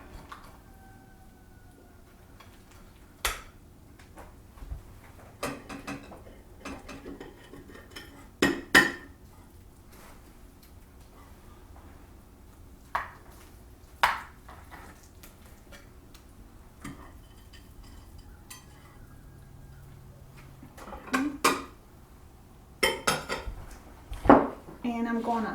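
Blackberry cobbler being scooped from a baking dish, with sparse metallic clinks and scrapes of a serving spoon against the dish, spaced out and growing busier toward the end.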